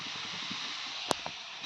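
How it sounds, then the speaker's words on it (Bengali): French fries frying in hot oil give a steady, soft hiss throughout, broken by a couple of brief clicks and a louder scrape at the very end. "এই যে সোনার ফ্রেঞ্চ ফ্রাইগুলো ভাজা হচ্ছে।"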